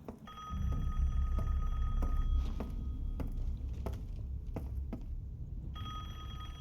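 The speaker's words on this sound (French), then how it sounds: "Oh! Téléphone?" A telephone rings in a horror-style video game set in a small Romanian village, repeated electronic trills standing out over a low rumbling ambience and occasional thuds, pausing midway then resuming near the end.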